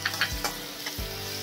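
Carrots and capsicum fry in a pan with a continuous sizzling hiss, punctuated by a few quick stirring scrapes and a low hum from the stove.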